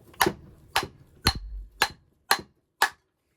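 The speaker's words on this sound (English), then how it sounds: "get a hammer, soft one, and whop it" Six sharp strikes of a soft hammer splitting the casing of a Bosch GBH 5-40DE rotary hammer land at a steady, even rhythm about half a second apart, each a short, solid knock close to the microphone.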